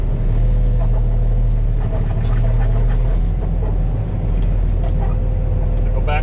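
A semi truck pulls out of a loading dock, its diesel engine rumbling loud and close with a steady droning hum and some higher clatter.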